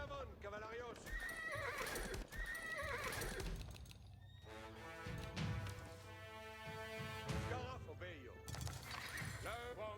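Horses whinny and neigh repeatedly with clip-clopping hooves in the Age of Empires IV Norman campaign, set against loud game music and battle noise while players talk over it.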